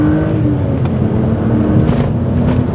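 A BMW 130i hatchback with a naturally aspirated engine accelerates, its steady engine drone loud and close throughout with a slight rise in revs and no voices.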